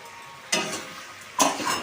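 Potatoes and young jackfruit tossed into a pan with spiced water, two short bursts of sizzling and clattering a second apart over a low background hiss, close by.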